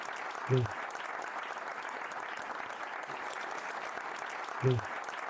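Audience clapping for a guest at the close of a French talk, a soft continuous patter of applause, with two brief low tonal bursts cutting in near the start and end.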